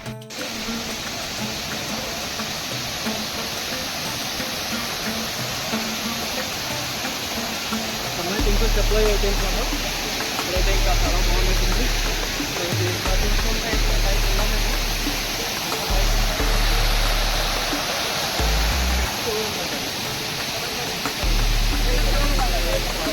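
Katiki waterfall in Araku, falling from about 100 metres, a broad steady roar of rushing water heard throughout while someone talks over it.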